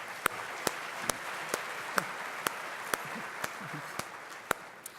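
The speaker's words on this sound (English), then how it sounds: "Let's give them one more round of applause." Applause from the audience at Houston's 2018 State of the City address, heard as sparse, evenly spaced claps standing out over a steady murmur of room noise.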